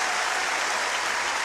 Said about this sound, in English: Listen to the crowd on centre court.